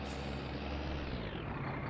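Truck handbrake air release in My Summer Car, a loud sustained hiss of escaping air over a low engine rumble, steady and close with no talk.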